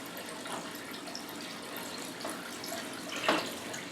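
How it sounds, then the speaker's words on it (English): Aquarium water runs through a siphon hose into a bucket as a steady soft trickle and splash, quiet and close, with one brief louder gush near the end. "Keep an eye on your bucket as you're siphoning"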